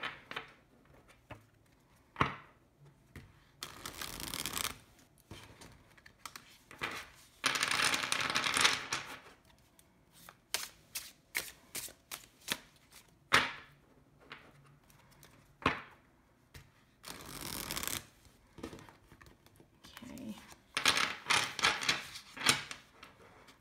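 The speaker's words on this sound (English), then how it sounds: "It has that very smooth shuffle" Tarot cards are shuffled repeatedly at close range, with soft riffling bursts and scattered light taps, no talking.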